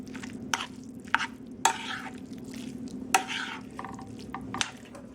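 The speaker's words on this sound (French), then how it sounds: "Je mélange le tout" Rice being stirred into a meat, anchovy and pattypan squash stuffing, giving soft wet squishing scrapes with a few sharper clicks of the spoon against the bowl, close and moderately quiet, no talking.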